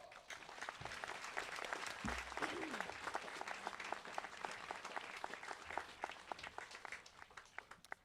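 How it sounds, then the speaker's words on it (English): Sustained applause from a graduation crowd cheering seniors at a high school commencement, heard at a distance with a broad, continuous wash of clapping and a few brief voices underneath. "Please give them a round of applause."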